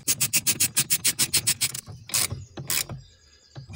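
A ratchet wrench clicks rapidly in an even train of about a dozen close, loud ticks while tightening a fastener under an Alfa Romeo MiTo with a steering assistance fault, then a few slower separate clacks and a metallic rattle follow.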